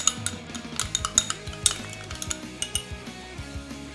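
A utensil stirs a cornflour-thickened sauce for mussels in a pan, giving rapid, irregular clinks and scrapes against the metal, close and fairly loud with no talk.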